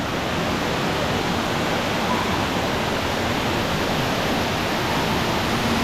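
Cave waterfalls on a ride rush in a steady, dense hiss of falling water, constant and enveloping with no voices.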